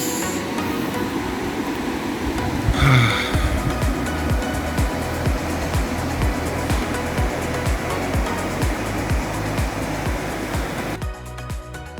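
River water rushing at Rakchham in Spiti, a loud, continuous broadband roar of flowing water close by, steady throughout with a brief higher sound partway in.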